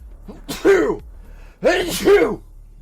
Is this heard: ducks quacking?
no